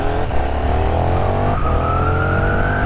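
KTM 1390 Super Duke R Evo motorcycle in circuit mode accelerating hard, a loud close engine note climbing steadily in pitch through a gear, with a brief dip at a shift.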